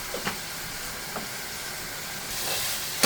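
Spices and peanuts fry in a pan with a soft, steady sizzle and hiss, broken by a few faint clicks and a louder scrape at the very end.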